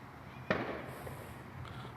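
Distant fireworks on a night outdoors: a single faint boom bursts out early, then fades into a low wash of background noise with a softer pop near the end, no talking over it.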